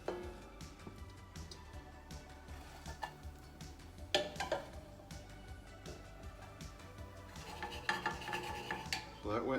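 A cabbage frittata is flipped in a pan, heard as scattered clinks and scrapes of utensils against cookware over a faint sizzle, with louder knocks around the middle and toward the end, quiet and close.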